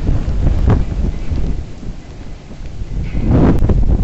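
Heavy rain and gusting wind from Typhoon Hato roar loudly and continuously at the Star Ferry Pier in Hong Kong, a dense storm wash with no voices.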